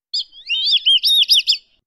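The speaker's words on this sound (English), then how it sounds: "Let's listen the sound for this bird." Bird song played back from an ImageBind AI demo page, a loud clean burst of quick chirps and warbling trills lasting about one and a half seconds against silence.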